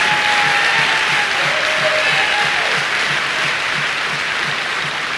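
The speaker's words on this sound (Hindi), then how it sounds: "इस पावन धरती के लिए, इस मातृभूमि के लिए एक बार जबरदस्त तालियां हो।" Audience applause fills a hall at a business training event, loud and steady from start to finish, with dense clapping throughout and no speech over it.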